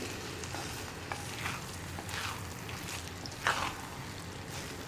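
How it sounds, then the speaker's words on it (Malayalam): A horse gram (muthira) side dish stirred and turned in a pan, a faint continuous scraping hiss with a few soft, sparse stirring knocks, and no voices. "ഇങ്ങനെ ഇടയ്ക്കിടയ്ക്ക് ഒന്ന് ഇളക്കി മറിച്ച് കൊടുക്കുക"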